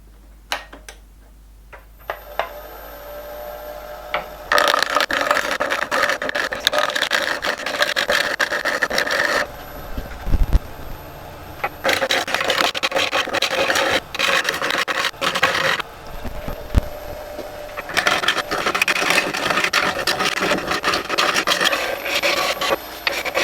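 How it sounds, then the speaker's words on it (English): A Hafco WL-14V wood lathe roughs a blank into a cylinder with a gouge, giving bursts of harsh scraping and rasping, interrupted by brief pauses and a few knocks, loud and close. "And now for the time lapse of me roughing this into a cylinder"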